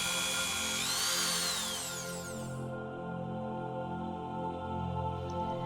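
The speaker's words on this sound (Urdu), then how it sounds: "ڈرل کی مدد سے چٹان پر سوراخ کرے گا اور بنیادی نمونے جمع کرے گا" Drill of the Perseverance Mars rover boring into rock to collect core samples, a steady loud whining drill tone that winds down partway through and continues as a lower grinding hum, with no speech.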